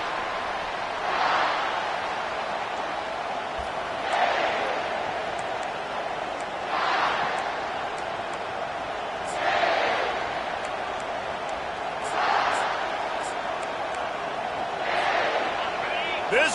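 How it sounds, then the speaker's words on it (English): Stadium crowd roar from a Madden American football video game, a steady broad wash that swells in rhythmic surges every few seconds beneath continuous play-by-play commentary. "This crowd trying to show them what it's going to be like all day in this house."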